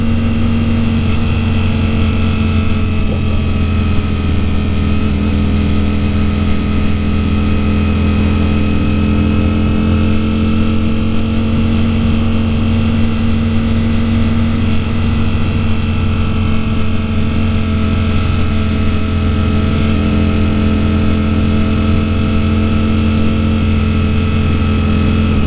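A Ducati Streetfighter V4 S fitted with a full titanium Akrapovic exhaust idles steadily with a deep, loud, even rumble and barely any change in pitch, heard alone without talk.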